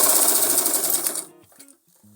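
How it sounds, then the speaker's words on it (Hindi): A sewing machine runs fast, stitching elastic onto the waistband of plazo pants in a continuous buzzing whir for over a second, then stops, leaving a few faint clicks and handling sounds. "खींचकर हमें इसमें सिलाई लगानी है।"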